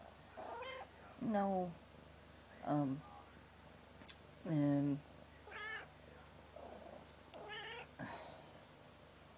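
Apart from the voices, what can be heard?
cat meowing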